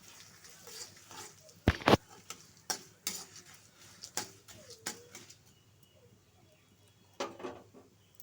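Poppy seed nuggets with panch phoron, dried red chilli and bay leaf are stirred in a pan, giving a series of irregular scrapes and clanks over a faint sizzle, with one louder knock near the start.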